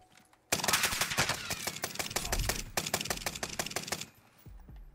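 Rapid bursts of automatic gunfire ring out close and loud in Warzone Pacific Resurgence, with short gaps and a pause before the shooting resumes, ending in near silence.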